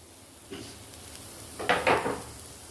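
Grated coconut being dry-roasted in a pan for a Tirunelveli-style Vinayagar Chathurthi sweet filling, with a soft sizzle and a few close scraping stirs, louder near the end.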